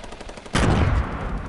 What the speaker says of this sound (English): I'm sniping them.